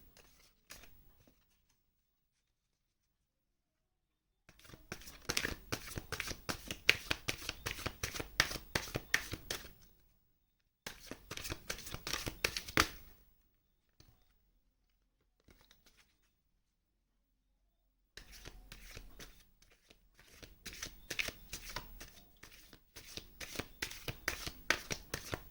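Tarot cards being shuffled in three separate bursts of rapid riffling and patter, close and crisp, divided by stretches of silence, with no talking.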